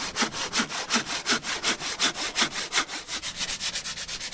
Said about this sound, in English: Doing my usual job of sanding